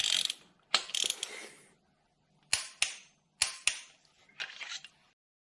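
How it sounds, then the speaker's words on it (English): Spark plug socket on a ratchet refitting spark plugs during a service on a Vauxhall Agila B 1.2 engine, giving several short bursts of close ratchet clicking separated by brief pauses. "Now you need to refit your spark plugs using your spark plug socket."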